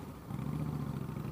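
A motorcycle engine hums steadily at mid pitch, a moderately loud, continuous drone that builds slightly as the bike draws near, with no speech over it.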